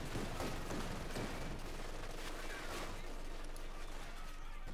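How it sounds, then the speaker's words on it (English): Rapid 2 cm autocannon fire from a Company of Heroes 2 battle pounds stone-wall cover in a dense, continuous stream of impacts and bursts, with commentary voiced over the combat. "the cover remains solid despite taking numerous impacts here from the 2 centimeter autocannon"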